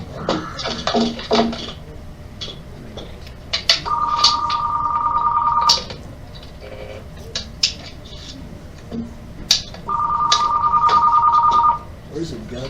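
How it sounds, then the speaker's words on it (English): Landline telephone ringing in two steady electronic bursts of about two seconds each, clear and fairly close, with someone talking around and between the rings. "I thought taking the phone off the hook would keep it from ringing, but apparently it doesn't"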